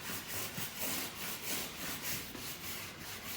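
Quick back-and-forth scrubbing of a Stressless leather chair with leather cleaner, a soft, steady rubbing swish in even strokes, close and fairly quiet.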